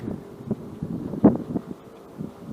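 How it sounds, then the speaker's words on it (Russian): Strong onshore sea wind buffeting a microphone on a coastal bike and footpath, a steady low rumble with irregular gusts and one louder thump midway, no talking. "Ветер с моря довольно сильный."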